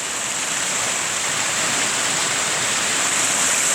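Steady, rushing mountain spring water flows straight out of a mountainside in winter, a dense hiss with no break, close by and fairly loud throughout.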